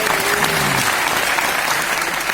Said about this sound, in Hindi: जोरदार तालियां डॉक्टर लिम के लिए